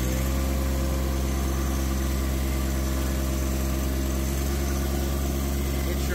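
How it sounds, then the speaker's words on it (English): A John Deere 1025R compact tractor's engine runs at a steady, loud drone throughout, with a constant low hum and no clear changes in pitch. "hook it up, put her in gear, rev her up."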